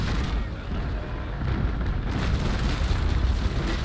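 Ship cannons fire a broadside in the naval combat game Naval Action, a sustained low rumbling roar of overlapping booms that stays loud and dense throughout.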